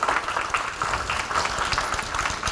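Dense, steady applause from an audience at a conservative political forum, a continuous crackle of many hands that fills the whole stretch at moderate volume with no talk over it.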